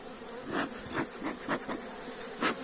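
Honeybees buzzing steadily around an opened hive, a dense close drone with a few louder passes as single bees fly near.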